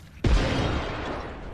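A sudden loud blast of a thermite grenade in the Apex Legends video game, a sharp onset followed by a sustained roaring, crackling burn that fades slightly over a second and a half.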